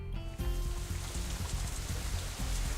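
Steady rain in the visual novel Katawa Shoujo, a continuous close patter over a low background music bed, with no talk.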